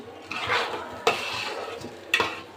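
A spoon stirs fried potatoes into rice in a pot for beef biryani, giving three close scraping strokes against the pot over a faint sizzle.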